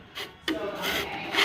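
Rough wood surface rubbed by hand with loose sandpaper, no sanding block, a close dry rasping scrape in short uneven strokes with a brief pause near the start.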